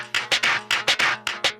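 Short slice of a drum loop sample, quick repeating bright hits with a tonal body, tightly rhythmic and looped, clear and alone with no voices.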